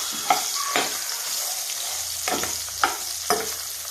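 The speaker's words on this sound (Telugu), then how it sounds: "మిరపకాయలు బాగా నూనెలో వేగుతూ ఉన్నాయి కదా" Chillies stuffed with cumin powder and salt fry in oil with a steady close sizzle, while a few distinct scraping stirs cut in at intervals.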